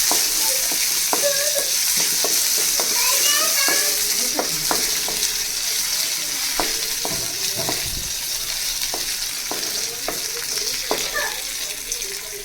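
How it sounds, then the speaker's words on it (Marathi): Green chillies fry in oil with already roasted garlic and ginger, a continuous close sizzle with scattered crackles and pops for several seconds, no voices. "यामध्ये आपण आता हिरवी मिरची त्याला सुद्धा छान भाजून घेणार आहोत।"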